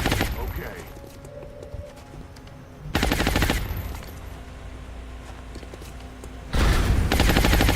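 Soldiers in the XCOM video game fire rapid automatic bursts on a roadway in Nigeria, two loud sustained volleys separated by quieter stretches where game ambience and a softer rattle continue.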